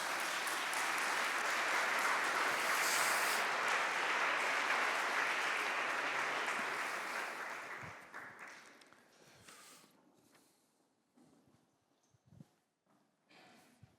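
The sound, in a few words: audience applause welcoming panel to stage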